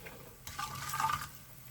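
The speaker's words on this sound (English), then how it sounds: "See the gentle bubbling?" Oil heating in an aluminium pan for a Madras curry paste bubbles gently with a soft, steady fizzing and sizzle that swells briefly mid-clip, close and fairly quiet, with no voices.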